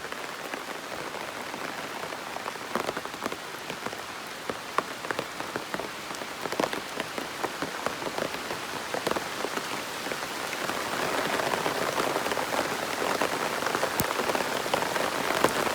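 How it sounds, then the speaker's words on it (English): Heavy rain pours steadily onto surfaces and banana leaves on a Jamaican farm in Manchester, a dense, continuous patter with sharp individual drops, growing slightly louder toward the end, with no talking. "This rain is bad, but the banana leaf is..."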